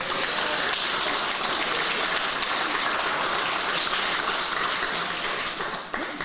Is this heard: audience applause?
yes